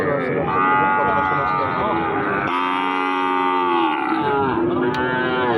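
Cattle low repeatedly at a crowded cattle market, long harmonic moos overlapping one another, loud and close amid a dense hubbub of people talking.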